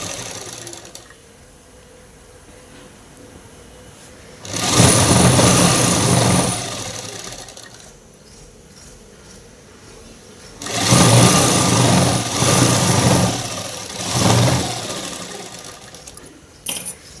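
A sewing machine stitches a shirt at close range. Two loud runs of several seconds each are separated by a quieter gap, and a short extra burst follows the second run.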